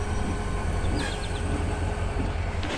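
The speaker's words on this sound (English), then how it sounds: "you can hear the stress of the old rail under the heavy engines" HO scale model train engines rumble over old, bad branch-line track while moving an empty cement hopper, a steady close rolling roar with brief faint metallic squeals.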